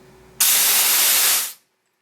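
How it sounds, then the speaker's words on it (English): Nitrous oxide bottle valve cracked open, releasing a loud, steady hiss of gas that starts abruptly, holds for about a second, then cuts off to silence. "Point the bottle away from you, wear some gloves, wear some eye protection, crack it open."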